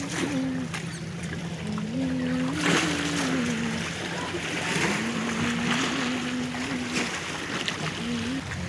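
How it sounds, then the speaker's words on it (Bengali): Beside a river, a boat rocks on the water as it draws closer, with a wash of waves and wind and a droning engine hum running underneath throughout. "এই দেখুন নৌকাটা দুলে দুলে আসছে।"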